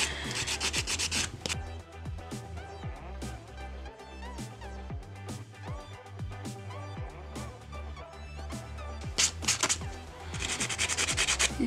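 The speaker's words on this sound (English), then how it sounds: "We've got to buff the surface of the nail off, so we'll do that with a buffing block." A buffing block rubs rhythmically across a fingernail surface to remove glitter gel polish, making close, continuous scratchy strokes with no talking.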